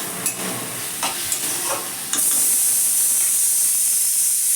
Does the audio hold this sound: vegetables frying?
yes